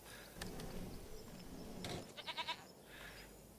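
Goats bleat in Farming Simulator 25, a few short, wavering calls and a quick stuttering bleat near the end, set against a quiet farm ambience.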